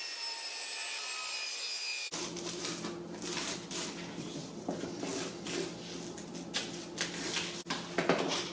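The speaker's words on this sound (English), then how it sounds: "The first step was to trim this to width. I used my chop saw." Chop saw cutting backsplash tile to width, a sustained harsh grinding hum with rasping bursts, close and fairly quiet, starting after a brief electrical tone.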